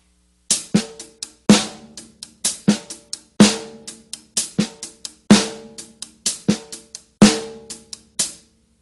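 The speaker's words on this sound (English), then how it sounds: "Now the snare drum is going to come in on the E of 1 and the E of 3 as ghost notes" A drum kit plays a steady groove of hi-hat strokes with soft snare ghost notes and louder backbeat snare hits, the pattern repeating evenly and close up with no talking.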